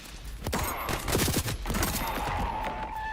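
Gunfire from a weapon with tracking bullets in the Voidtrain video game, a rapid burst of sharp shots followed by a steady stream of crackling fire, loud and close with a faint tonal hum underneath.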